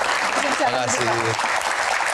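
Audience applause for a guest at an Indonesian Q&A event, a dense broadband wash that runs steadily throughout, with a voice speaking briefly over it midway.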